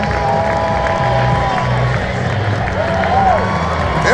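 Stadium crowd at a high school football game, Dickinson versus Cy Ranch, cheering and clapping as the Gators team comes down the stairs to take the field, a steady roar of distant voices with a whistle-like tone riding over it.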